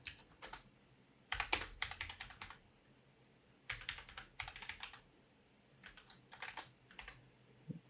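Python code being typed on a computer keyboard in quick bursts of close key clatter, broken by short pauses, with no voice over it.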